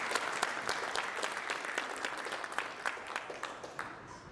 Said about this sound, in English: You all may clap for each one.